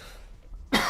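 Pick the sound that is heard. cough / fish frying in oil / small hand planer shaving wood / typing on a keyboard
cough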